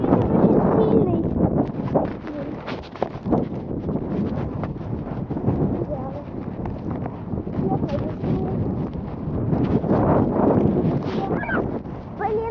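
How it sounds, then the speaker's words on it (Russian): Strong gusting wind buffets the microphone outdoors on a walk, a continuous low roaring rumble that swells and eases, with a person talking close by throughout. "ветер очень сильный"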